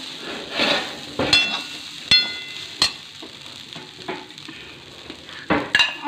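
A spoon stirs kande pohe, flattened rice with onion and potato, in a pan off the heat. Close scraping and clatter sound over a soft sizzle, with several sharp knocks of the spoon against the pan.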